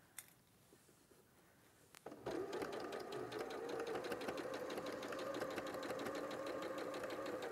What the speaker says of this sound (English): we can kind of carry on and sew all the way around the edge